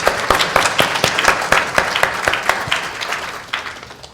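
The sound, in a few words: applause for the panel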